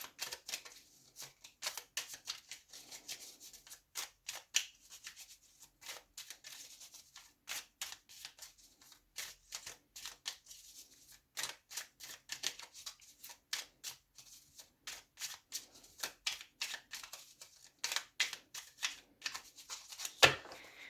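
A deck of tarot cards is shuffled and cut by hand, a long series of crisp card slaps and riffling flicks in uneven bursts, close and fairly quiet, with no talking.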